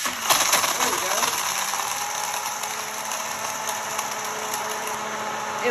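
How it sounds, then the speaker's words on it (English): A Blendjet 2 portable cordless rechargeable blender runs, a loud, close, steady high-pitched motor whir with a grinding edge after an initial clatter, continuing evenly throughout. "It will blend for 20 seconds and then it will turn off automatically."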